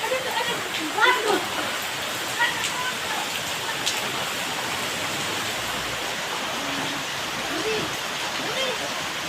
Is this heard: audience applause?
no